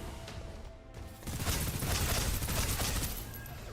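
Machine gun fire in the video game Snowbreak, a dense rapid burst that swells after a quieter start and holds loud for a couple of seconds before easing.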